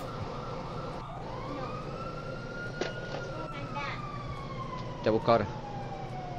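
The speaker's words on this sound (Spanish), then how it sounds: "estoy al lado de las ambulancias." A wailing ambulance siren sounds in the video game GTA 5, rising and sweeping steadily under a continuous rumble of game noise while someone talks briefly over it.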